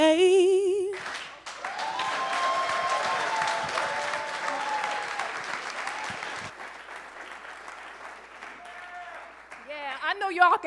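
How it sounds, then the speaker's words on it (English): An audience at a talk on beating the system as a man of color in America breaks into sustained, dense applause lasting several seconds, with a speaker's voice heard before and after the clapping. "I know y'all can clap it up better than that for this right here."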